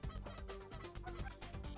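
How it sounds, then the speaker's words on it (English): Canada geese honk over a Nebraska cornfield on their southward migration, a dense overlapping chorus of loud nasal calls repeating rapidly from a large flock, with no voices. "Canada geese flock to these important stopping grounds on their long journey south."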